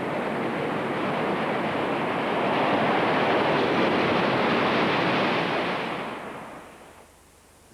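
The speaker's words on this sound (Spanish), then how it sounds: "El mar se agita y cualquier objeto terrestre de las cercanías queda sumergido." Sea churning and surging as whales breach together, a loud broad wash of surf that holds steady for several seconds, then fades away near the end.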